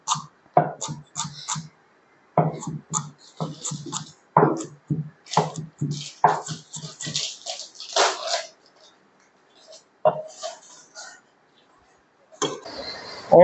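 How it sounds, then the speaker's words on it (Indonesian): A knife chops a large onion on a board while Sambal Petai with squid is prepared, giving a run of sharp, evenly spaced close taps that come in bursts with short gaps. "kita potong bawang besar ini dulu ya"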